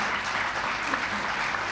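Steady applause from an audience fills a press conference on thalassemia care in Punjab, a dense, even patter of many hands clapping throughout with no break.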